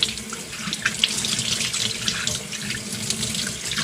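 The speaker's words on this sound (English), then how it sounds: "And we're literally just going to rinse this out." Water runs steadily from a garden hose or faucet, rinsing a K&N air filter, a constant hissing splash at moderate level with no talk.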